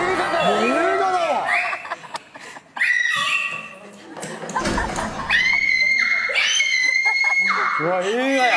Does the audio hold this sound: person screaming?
yes